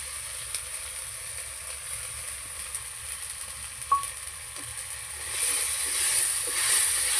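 Tomato paste sizzles steadily in a frying pan while being stirred, cooking for a spicy tengra fish curry; a constant close hiss that grows louder and brighter toward the end, with faint scraping of the stirring.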